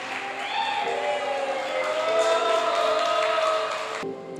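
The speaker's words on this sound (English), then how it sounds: "Let us give them a big round of applause." Wedding guests applauding a newly wedded couple at the reception, a moderate continuous round of clapping over a sustained musical tone, cutting off abruptly near the end.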